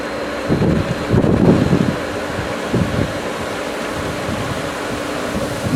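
A pool pump line purges air while the skimmers are opened, giving a steady rushing hiss of air and water with a few louder gurgling surges near the beginning.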